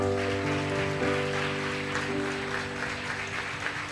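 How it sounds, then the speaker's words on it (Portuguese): A church congregation applauds, with a steady wash of clapping from many people over sustained keyboard or organ chords, moderately loud and continuous with no talk on top. "Você pode aplaudir o Senhor"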